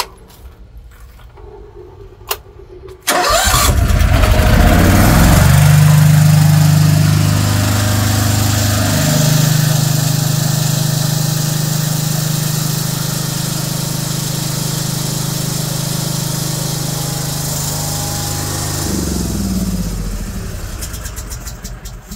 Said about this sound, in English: What we'll do first now is to kick the generator and just show you guys the state of the generator